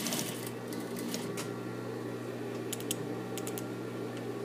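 A sewing machine stitches along a seam line with a steady mechanical whir and rapid needle ticks, close up and continuous, with a few brighter clicks near the end.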